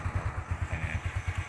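A motorcycle engine idles close by, beating out a steady, even low-pitched chug with no voices over it.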